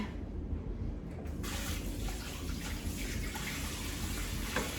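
Hands being washed under a running kitchen sink tap, a steady rush of water with splashing that grows fuller after the first second, continuous and close.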